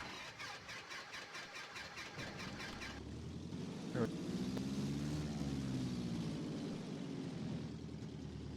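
A Super Cub light aircraft engine in the X-Plane flight simulator cranks with rapid rhythmic turnover, catches after a slightly flooded start, then settles into a steady droning idle, heard fairly quietly.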